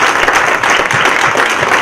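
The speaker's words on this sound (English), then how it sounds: "Please give a very strong round of applause for the" Conference audience giving a loud round of applause for panel speakers, dense continuous clapping from many people, close and sustained for the whole short stretch.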